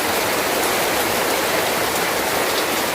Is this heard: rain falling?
yes